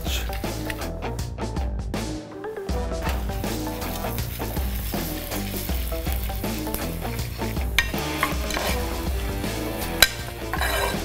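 Cumin, black pepper, fenugreek and red chilli roasting in ghee give a loud, continuous sizzle and crackle, with occasional stirring and clinks of a pan, close up.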